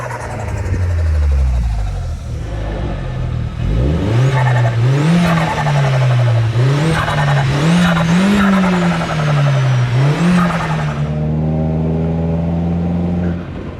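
A VW Polo 9n3 GTI on its stock turbo and stock dump valve revs hard nearby, the engine note rising and wavering through repeated pulls before settling into a steadier drone, with turbo flutter on lift-off.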